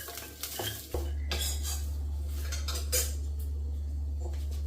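Curry leaves roasting in a pan on a gas stove, with a spoon stirring and scraping against metal in irregular clinks over a steady low hum, close and moderately loud.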